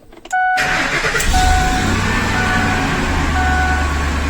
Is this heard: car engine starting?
yes